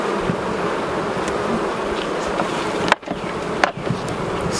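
A dense, continuous swarm-like hum of honey bees at an open hive during an inspection, fairly loud and steady throughout, broken by a couple of brief bumps and dropouts partway through.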